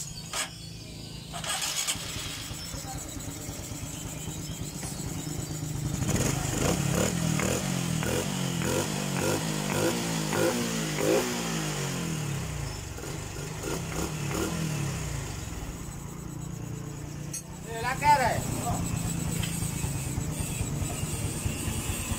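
A Honda Supra 125 FI motorcycle with a leaking valve and hard-starting fault cranks with the starter, catches, and revs unevenly, rough sputtering bursts rising and falling close by, followed by more starter attempts and clatter.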